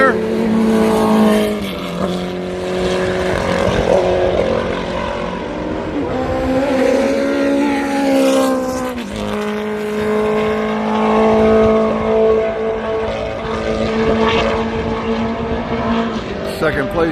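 A historic sports car roars past at speed during a race at Road Atlanta, with loud engine drone that rises and falls as the car passes and other cars follow, under a commentator's voice.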